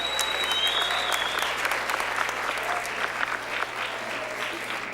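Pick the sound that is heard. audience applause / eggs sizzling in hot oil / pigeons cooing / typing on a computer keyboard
audience applause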